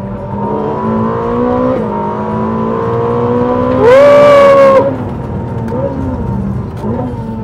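A Ferrari SF90 XX sports car, 1030 horsepower, accelerates on a race track with a loud engine whose pitch climbs through gears, shifts marked by brief drops, peaking in a sharp, screaming surge before easing off.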